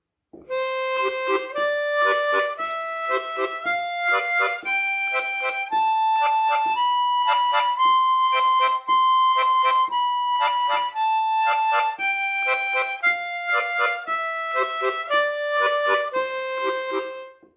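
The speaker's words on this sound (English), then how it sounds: "you play it tongue slaps on 2 and." A harmonica is played with tongue slaps landing on the two-and of each beat, giving a clipped pulsing rhythm as the notes climb and descend, loud, close and unaccompanied.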